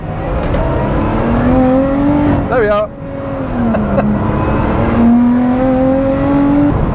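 A Lotus Exige Sport 390 Final Edition engine revs hard and climbs steadily in pitch while accelerating from 30 to 60 mph in second gear, with a short break as the gear holds, and someone speaks briefly.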